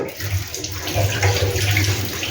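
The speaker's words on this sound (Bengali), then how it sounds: "আচ্ছা, এবার আমি হাতটা ধুয়ে নিই।" Tap water runs steadily while hands are washed under it in a home kitchen, close and continuous, with small splashing changes as the hands move.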